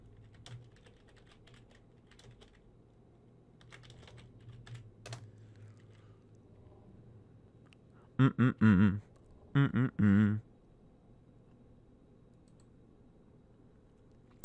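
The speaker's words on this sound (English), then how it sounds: "I'll type it in chat just in case." Bursts of typing on a computer keyboard, several quick clusters of crisp key clicks close to the microphone after a long quiet stretch with faint background hum.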